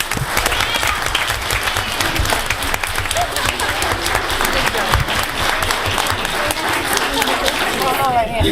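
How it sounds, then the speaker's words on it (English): Loud, close applause with cheering for a teacher at a student school board meeting, a dense continuous roar of clapping mixed with crowd voices throughout. "If we could have maybe one last applause for the teacher."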